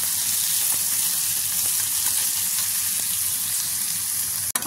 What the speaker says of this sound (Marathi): आपण त्यामध्ये आता टमाटर पण छान भाजून घ्यायचं आहे